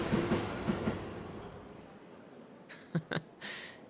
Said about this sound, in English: See, now she's on top of the train.